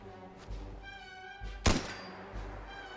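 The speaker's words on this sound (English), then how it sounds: "set off some fireworks" Fireworks mortar launching blue shells in Fallout 4, a couple of soft dull thumps and one sharp louder launch burst near the middle, over a faint sustained musical drone.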